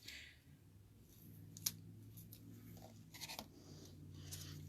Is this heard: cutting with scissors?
yes